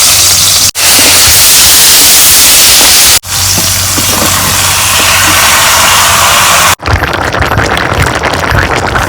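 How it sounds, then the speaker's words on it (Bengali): Chopped onions hitting hot oil in a pan for a desi bottle gourd and taki fish curry, a loud, steady hiss of sizzling close by that cuts off briefly a few times. "এই তেল গরম হচ্ছে, এখন আমি পেঁয়াজ দিয়ে দিই"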